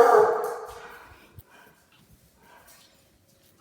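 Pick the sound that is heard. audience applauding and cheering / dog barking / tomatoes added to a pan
dog barking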